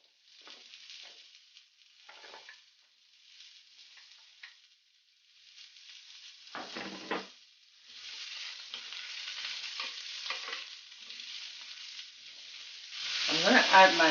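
Carrots hit a pan and fry, then get stirred: scattered soft crackles first, building to a steady, brighter sizzle with spoon scrapes, loudest at the end, with no speech.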